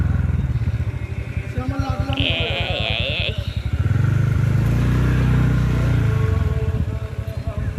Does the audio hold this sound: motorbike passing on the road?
yes